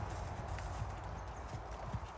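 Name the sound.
Arabian gelding horse hooves clip-clopping while ridden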